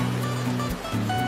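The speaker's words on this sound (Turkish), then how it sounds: "Su sesleri biraz önceki şelaleden geliyor." Rushing water from a mountain waterfall in a snowy highland meadow in Bolu in May, a steady close roar with slight swells.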